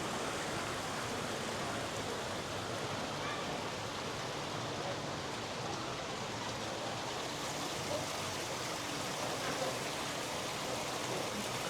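Cold spring water flows out from under a rock in a soft, even rush that holds constant and fairly faint throughout, with nothing else standing out.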